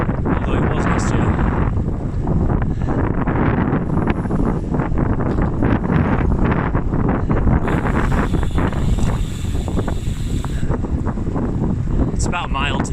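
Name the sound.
wind during road bike lap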